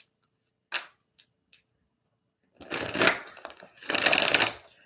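A big, oversized tarot deck being shuffled by hand: a few sharp isolated card taps, a pause, then two loud, close bursts of riffling and sliding cards.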